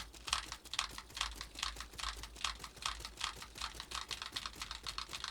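Fighting game controller buttons pressed in a rapid, steady patter of clicks for a wave-dash cancel input, close and quiet, with no voices.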